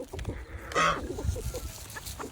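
Farm chickens cluck excitedly over treats, with one louder squawk rising above a steady, fairly faint background of scattered bird noises.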